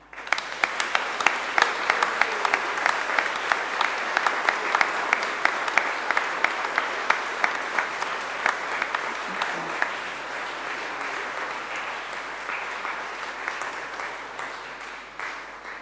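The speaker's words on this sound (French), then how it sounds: "Vous pouvez les applaudir." A church congregation claps at Easter Sunday mass, sustained clapping of many hands filling a reverberant nave, strong at first and slowly thinning toward the end, with no voices over it.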